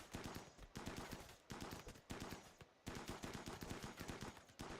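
Sustained rapid video game gunfire in a sci-fi shooter, dense automatic bursts crackling almost without pause, loud and close, broken only by brief gaps between volleys.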